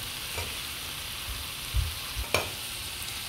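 Salmon head sautéing in a pan for sinigang, a low steady sizzle with a few soft stirring knocks and scrapes, close and quiet, with no voices.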